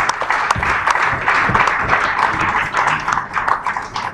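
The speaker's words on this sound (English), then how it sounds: "I believe that deserves another round of applause" Sustained audience applause fills a large gathering hall, a dense steady wash of many hands clapping at fairly loud level with no pauses and no talk over it.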